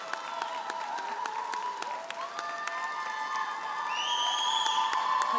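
At a university convocation ceremony, a crowd claps and cheers from a distance in a steady wash, with whistling and sustained tonal sounds over it and the cheering rising toward the end.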